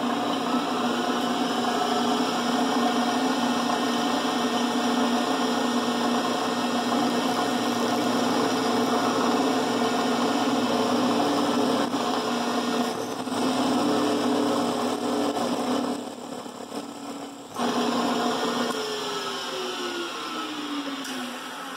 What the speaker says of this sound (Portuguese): Fazer uma furação bem caprichada aqui.